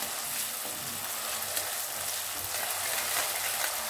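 Popti (field bean) bhaji sautéing over a low gas flame fills the clip with a steady, close sizzle and faint stirring, unbroken and even from start to finish.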